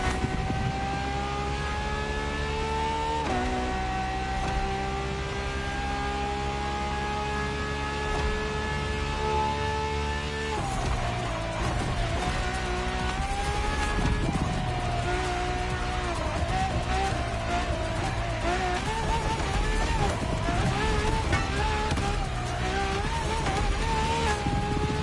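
A Ferrari LaFerrari sports car with an F1-style kinetic energy recovery system, its engine note rising and shifting through pitch changes in a sustained loud roar, with no voices over it.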